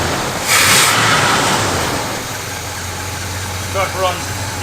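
A Chevrolet C10 truck engine settles into a steady, low idle near 750 rpm after a brief rise at the start, rumbling close by while someone speaks over it.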